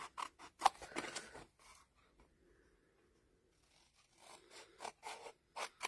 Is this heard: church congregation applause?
no